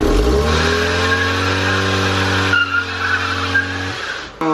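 A cheap car skids under the e-brake with a loud engine drone and a long tire squeal that holds steady, then fades as the car slows and the sound cuts off.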